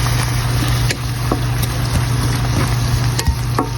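Beef mince and vegetables sautéing in a pan in a home kitchen, a steady broadband sizzle with occasional soft clicks and stirring scrapes, close and continuous throughout with a low hum underneath.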